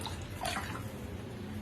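Water pours into a cooking pot while fish curry (doi rui) is being made, a brief steady splashing rush that swells and then settles, close and moderately quiet.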